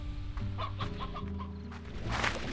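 A chicken in the video game Slime Rancher clucks a few times over steady game music, its calls light and mid-level within the mix.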